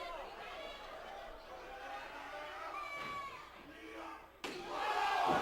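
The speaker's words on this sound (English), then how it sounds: "And the crowd is counting with 450." A pro wrestling crowd counts along in unison, with rhythmic shouted voices under nearby talk, then a sudden loud slam and roaring crowd noise near the end.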